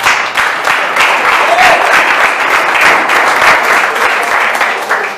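A church congregation at an evening service claps loudly and steadily, a thick continuous wash of applause from many hands that holds evenly for several seconds with little talk beneath it.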